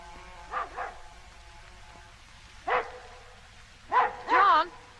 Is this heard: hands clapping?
no